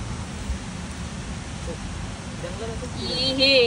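A waterfall in the Maval forest gives off a steady, broad rushing roar with a deep low rumble that never lets up, and faint high chirps creep in near the end.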